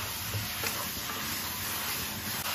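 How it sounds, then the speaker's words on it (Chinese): Cabbage stir-fried quickly in a wok gives a faint, steady hiss and sizzle with light tossing noises throughout. "调料加好之后，我们给它快速的翻炒均匀。"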